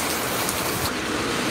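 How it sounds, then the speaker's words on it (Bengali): Rain falling on a tin roof, a dense steady hiss of drops drumming evenly throughout, fairly loud with no speech. "আর এই বৃষ্টির আওয়াজটা ভালো লাগে, আর বেশি ভালো লাগে এই তো এই টিনের আওয়াজটায়"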